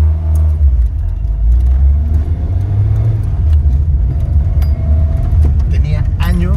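A 1982 Renault 5 LS on the road, with a steady low engine and road rumble throughout and someone talking over it.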